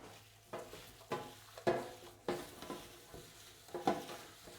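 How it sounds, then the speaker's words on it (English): Salted cabanossi meat mixed by hand, giving soft squelching, stirring pulses that repeat roughly every half second, close and quiet with no voices. "Let's get that salt into it. And give it a good mix."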